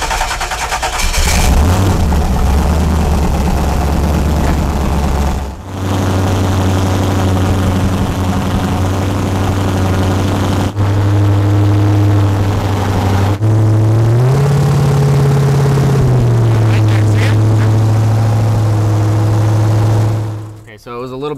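A car engine runs steadily with a deep low rumble, its pitch rising as it revs up several times before settling and cutting off near the end.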